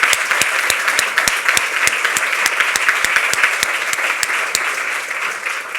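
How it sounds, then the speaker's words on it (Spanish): Sustained audience applause at a presentation event, dense steady clapping with sharper individual claps standing out, loud and continuous throughout with no speech. "Ese aplauso."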